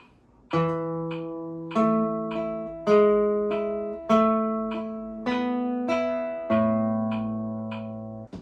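Slow classical guitar notes from Carcassi's Moderato in A Minor ring out one at a time in an even pulse, each sustaining, with light metronome clicks marking sixteenth notes between them.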